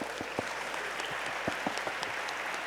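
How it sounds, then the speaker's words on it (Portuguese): Audience applause at the close of a talk on cattle genetics for steak at a beef industry fair, a quiet, steady patter of many hands heard from a distance, with a few louder nearby claps standing out. "Uma salva de palmas para todos."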